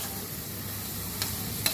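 Village country chicken curry with turmeric frying and being stirred in a pan, a steady soft sizzle with two brief scraping stirs near the end, close and fairly quiet.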